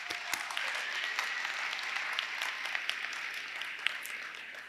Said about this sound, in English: So I want you to give yourselves a round of applause because you did some hard work for this.